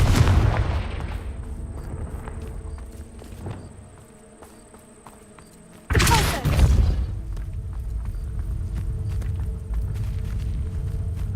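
A Confringo fire-blast spell explodes in Hogwarts Legacy with a sudden loud boom that then carries into a sustained rumble, set against a constant insect-like ambient buzz.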